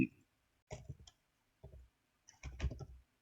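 A few soft computer mouse clicks come in small clustered bursts separated by silence, faint and close, with no one talking.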